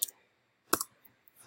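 A computer mouse clicks twice, with sharp, light taps spaced a moment apart, during CAD work in Onshape. Near silence surrounds the clicks, and a few faint ticks follow.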